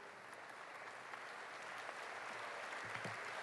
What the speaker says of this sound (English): Please give all of our guests a round of applause